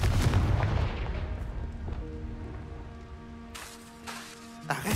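A Confringo blasting spell goes off in Hogwarts Legacy, a loud booming burst at the start that fades into a rumbling, crackling tail, with a couple of fainter impacts near the end.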